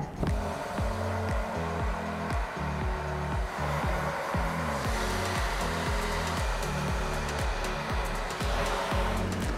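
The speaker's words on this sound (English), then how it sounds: "So now we're gonna dry your hair." A hair dryer blows steadily on freshly washed hair after a head spa treatment, a constant close whooshing hum with a slight rhythmic pulsing, running alone without talk.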